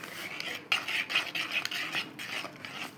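A utensil stirs beaten eggs seasoned with black pepper, cumin and coriander together with Vegetar seasoning in a bowl, making a quick, rhythmic series of close scraping and clinking strokes against the bowl, moderately loud, with no talking.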